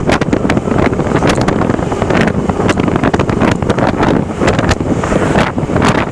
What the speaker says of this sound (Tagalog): Maraming na simoy na hangin dito.